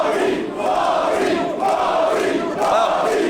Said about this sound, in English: there's a considerable and loud section of this crowd who are cheering for Scurll as well